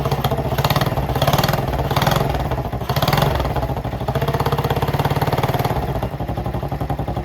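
A small 70cc Chinese quad engine idles close by with a steady, rapid putter, rising and dipping slightly in loudness as it warms up, no talking.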